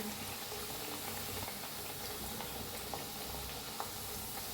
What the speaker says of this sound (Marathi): दोन्ही साईडने असं छान तळून घेऊया